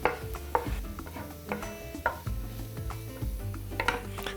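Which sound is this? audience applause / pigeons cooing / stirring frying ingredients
stirring frying ingredients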